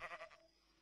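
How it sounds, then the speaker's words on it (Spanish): A single short sheep bleat in a Minecraft server game, faint and wavering, fading out within half a second. "Y adentro hay una oveja, mira."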